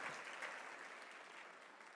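A large audience at a CPAC conference applauds. A continuous, even hiss of many hands clapping sounds distant and fairly faint, with no voices standing out.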